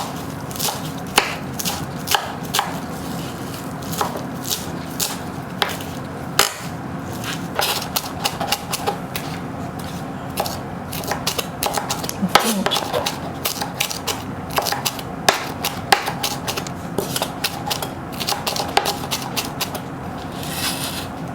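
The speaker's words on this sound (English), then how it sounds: "I have flat leaf parsley here. I'm just going to mince this up" Flat leaf parsley being minced with a knife on a cutting board: a steady run of quick, sharp chopping taps that continues throughout, close and moderately loud.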